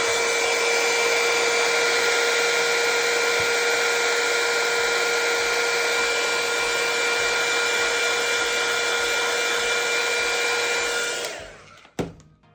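A handheld heat tool blows hot air over a glitter tumbler, a steady close whooshing drone with a faint high whine that runs for several seconds, then cuts off abruptly, followed by a couple of brief handling knocks.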